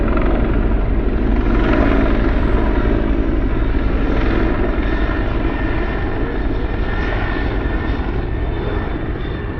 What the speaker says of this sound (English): police and their helicopter flying around.